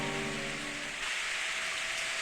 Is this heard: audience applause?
no